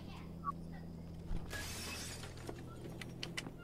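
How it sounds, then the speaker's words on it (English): Glass shatters in the horror video game Yan魇: Parasomnia, as a sudden bright crash and a spray of fragments that fade out over a couple of seconds, heard over a low steady hum. "And there's glass shattering."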